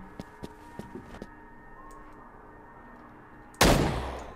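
Gunfire from the PC video game The Withering: a few faint, sharp shots early on, then one loud, close blast near the end.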